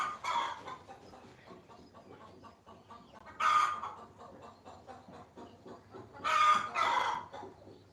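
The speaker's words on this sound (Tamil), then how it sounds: "கத்திட்டே இருக்கிறாங்க கோழி." Chickens cluck softly in the background while a rooster crows loudly three times, the last two close together.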